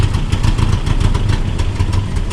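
A Nissan D21 flatbed truck engine idles steadily after being revived on old bad fuel, a loud close mechanical rumble with an even, slightly uneven pulsing rhythm and no voices.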